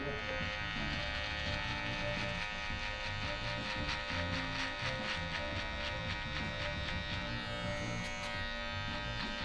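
An electric foil shaver runs at a barbershop-style haircut, a steady close mechanical buzz with a constant hum that continues evenly throughout, with slight variations as it moves over hair.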